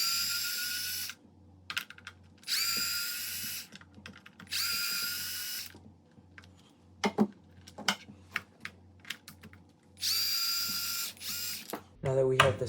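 A 2.5mm hex driver backs out the screws holding a steering servo in a Traxxas Slash 4x4 RC truck, heard as bursts of whirring, buzzing power-tool-like noise separated by quiet gaps, with small clicks and handling sounds between them.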